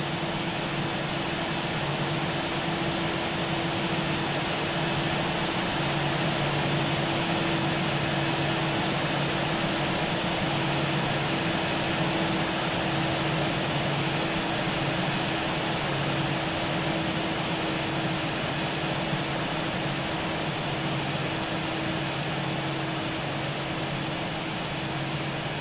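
Steady, loud roar of Boeing 737 jet engines at takeoff power in the X-Plane flight simulator, a continuous broadband rush with a constant hum and high whine running unbroken throughout.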